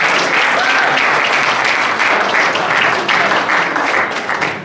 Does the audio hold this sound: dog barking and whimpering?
no